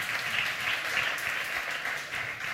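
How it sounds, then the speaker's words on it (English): Audience applause at the South Summit 2016 food startup competition finals: steady, dense clapping from a crowd that fills the whole moment without any voices over it. "A round of applause."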